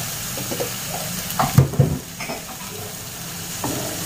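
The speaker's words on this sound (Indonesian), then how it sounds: "Nah, seperti ini kita aduk sampai harum ya." Spices fried in oil for lontong cap go meh are stirred in a pan, a soft steady sizzle with a few louder scraping stirs of the utensil, close by and without talk.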